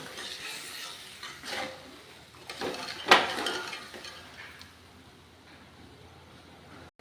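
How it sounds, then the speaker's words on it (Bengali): Spice masala with turmeric for egg ghugni being stirred and fried in a pan, a soft sizzle under scraping spatula strokes with one sharper clink partway through, fading quieter toward the end. "ভালো করে মশলাটাকে এবার আমি কষিয়ে নেব।"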